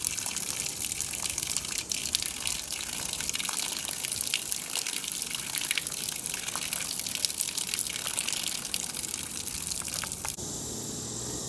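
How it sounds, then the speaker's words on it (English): Spring water trickling and gushing along a woodland pathway during a drought, a continuous close, bright flow at a steady level, briefly shifting near the end. "The spring here is still flowing."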